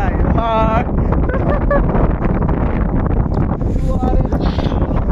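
Strong wind buffeting the microphone at Sela Lake near Tawang, 13,700 feet high, a loud continuous roar with a person talking over it.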